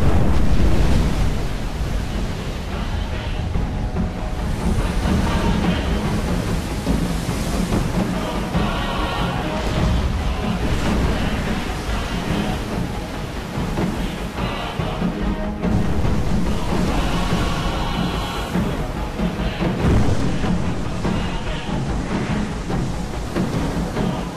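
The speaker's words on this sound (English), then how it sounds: "This is Kavachi in the Solomon Islands, one of the most active undersea volcanoes in the world." Kavachi undersea volcano erupting in the Solomon Islands: a loud, continuous rumbling roar with surging, surf-like swells and wind, sustained throughout with no voices.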